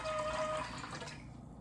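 Water is poured into a large clear bowl, a soft splashing fill that fades out toward the end, fairly quiet with no voices.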